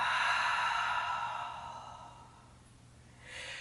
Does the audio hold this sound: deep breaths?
yes